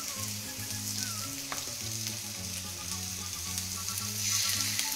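Italian-seasoned chicken fillets sizzle steadily in a frying pan, a constant close hiss with faint stirring, while a low melodic background tone or music runs underneath; no talking.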